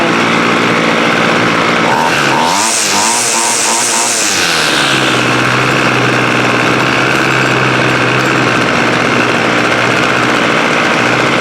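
A water-soaked Homelite weed eater engine runs loud and close, briefly revving higher with a rising whine before settling back into a steady, buzzing idle that continues to the end.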